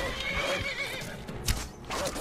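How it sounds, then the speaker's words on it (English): A horse in the video game Skyrim neighs loudly as it is killed, a strained whinny mixed with hoof clatter and combat noise in a busy, dense game soundscape. "They killed my horse."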